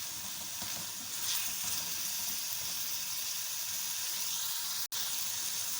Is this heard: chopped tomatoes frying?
yes